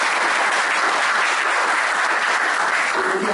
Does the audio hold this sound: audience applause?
yes